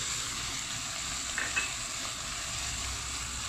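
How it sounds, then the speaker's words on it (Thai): Shrimp stir-fried with red chili, soy sauce, sugar and seasoning powder sizzles steadily in a hot pan, a constant close hiss with a couple of brief scraping stirs. "แล้วก็ทำการผัดคลุกเคล้าทั้งหมดให้เข้ากันนะครับ"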